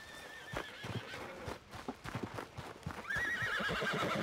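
Horse in Red Dead Redemption 2 whinnies loudly near the start and again in the last second, with clip-clopping hooves and game ambience between.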